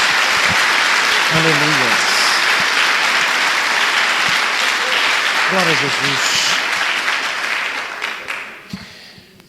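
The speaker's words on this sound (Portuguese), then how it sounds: "Mais uma salva de palmas ao Senhor." A congregation at a Portuguese-language church service applauds in a loud, continuous roar of clapping while a voice briefly calls out over it, then the clapping tapers off and fades at the end.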